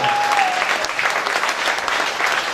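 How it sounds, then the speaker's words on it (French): A church congregation claps loudly and continuously in praise during a sermon, a close, dense, steady wave of applause with no words over it. "Nous applaudissons le Seigneur comme des vivants qui applaudissent un Jésus vivant"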